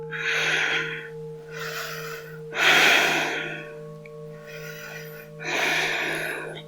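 Several slow, breathy exhalations during a yoga flow, each a soft rush of air rising and fading in turn, over a steady ringing singing-bowl drone, with no talking.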